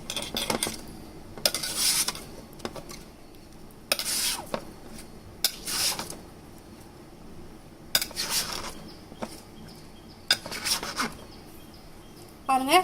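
A potato is sliced into thin chips on a cutting surface, with a series of crisp, close-up cutting strokes landing at uneven intervals, some in quick pairs, and brief clinks of the blade between them.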